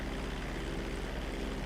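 Steady, unbroken drone of the Mammoth Streamer 216 propeller plane's engine in flight in GTA Online, even in loudness with a low hum throughout and no other sounds.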